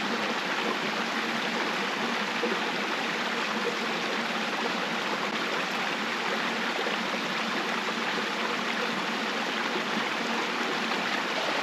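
A river running steadily nearby, a continuous rushing wash of flowing water with gentle gurgling, unbroken and without voices for the full length.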